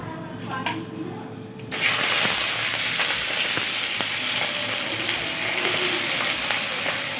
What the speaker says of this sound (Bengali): তেলটা দেওয়ার পর আমি দেব চিকেন চিকেনটা একটুখানি আমি ভেজে নেব